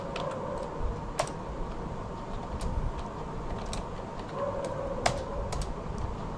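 Sparse keystrokes on a computer keyboard while writing jQuery code, soft and close, come as scattered taps over a steady low room hum.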